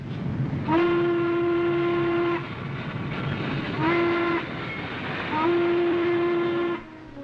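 A Norfolk and Western steam locomotive hauling a freight train sounds three long whistle blasts over a steady rumble of the moving train.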